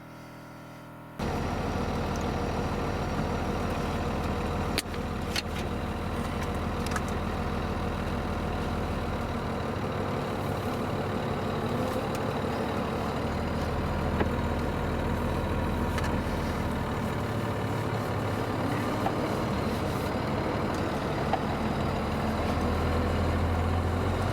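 A Dodge pickup with a Cummins diesel engine and a 10-speed transmission, its engine starting and then running at a steady low rumble close by for a long stretch, with no voices over it.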